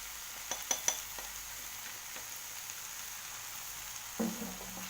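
A spiced stuffing mixture is stirred in a pan, with faint low sizzling, a few sharp clinks of a utensil against the pan early on, then a soft scrape near the end, quiet and close.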